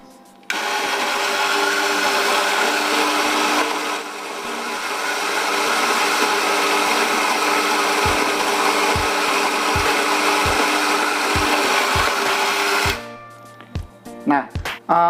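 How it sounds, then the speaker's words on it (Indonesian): Loud, steady whirring drone from an electric coffee grinder crushing coffee beans, lasting about twelve seconds before cutting off, followed by a few soft knocks and taps. "Aku akan sebentar giling kopi dulu."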